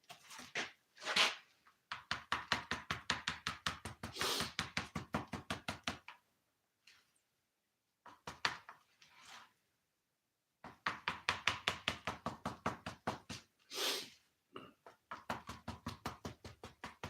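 Body filler for patching a dent on a Chevrolet Caprice dash is chopped and worked with a tool in fast, even runs of close taps, broken by short pauses and a few heavier knocks, with no talk.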